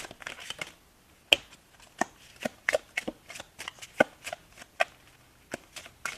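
A deck of wild cards being shuffled, a run of crisp riffling snaps and flutters close by, with several sharper slaps standing out against a quiet room.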